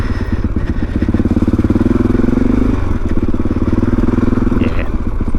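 A motorcycle engine runs steadily and loudly up close while greenlaning on a trail along the Pilgrims Way in Kent after a storm, with a continuous low throbbing drone throughout.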